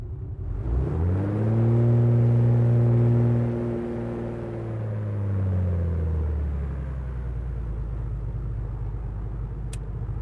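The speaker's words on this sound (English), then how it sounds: "Left engine running." A twin-engine aircraft's left engine starts up in Microsoft Flight Simulator on a VFR flight out of Juneau, Alaska. A loud, steady rumbling drone swells, holds, then eases back to a lower idle hum with no talking.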